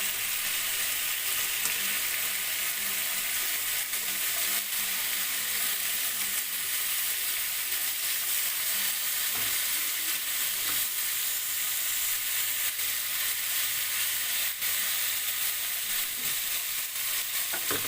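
Chicken pieces brown in a pan with a continuous, even sizzle and crackle that stays loud and close for nearly eighteen seconds, with occasional faint taps of a utensil and no talk.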